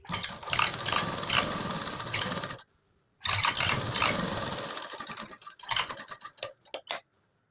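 A sewing machine runs a cover stitch along a narrow pant seam, two long continuous whirring runs split by a short pause, then a string of quick start-stop bursts before falling silent.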